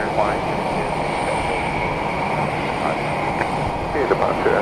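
Airplane taking off at Palm Beach International Airport, a steady broad engine roar from a distance with faint voices over it.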